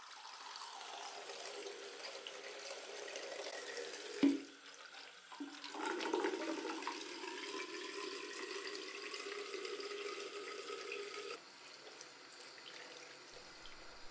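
Running water pours steadily from a tap as an animal tail is washed free of dirt, a continuous close rushing. A brief thump and a shift in the flow come midway.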